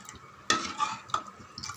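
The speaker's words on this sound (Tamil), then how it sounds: "கை விடாமல் நல்லா கலந்து விட்டுன்னு இருக்கணும் ஃப்ரெண்ட்ஸ்." A spoon stirs salted flour batter in a pot on the stove, making a couple of distinct wet scraping strokes, close and moderately loud.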